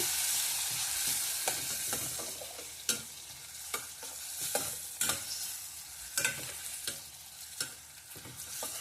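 Chopped tomatoes frying in a pan for a green moong dal tadka give a steady, close sizzle, broken by repeated scraping and clinking of a spoon stirring the pan, with no talking.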